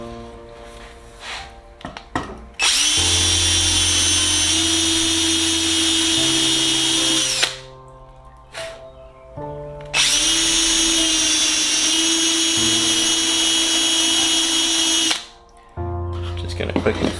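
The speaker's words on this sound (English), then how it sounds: "And then I will simply flip this over and drill holes right through this part" Power drill boring holes through aluminium angle for an aircraft rear spar: two long steady high-pitched runs of several seconds each, close and loud, separated by short pauses with handling noise.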